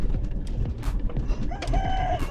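A cockerel crows once near a sandy road in Botswana, a rising, drawn-out call over low rumbling background noise.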